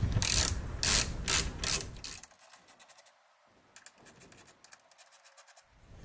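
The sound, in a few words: 10mm socket wrench loosening radiator support brackets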